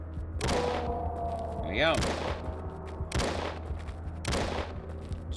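Gunfire in the horror game Deadly Night comes as four sharp, loud shots spaced about a second apart over a low background hum. A voice speaks briefly between the shots.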